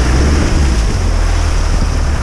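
Off-road vehicle splashing through water, a loud continuous rush of spray and churning water with heavy wind buffeting on a hand-held camera, no voices.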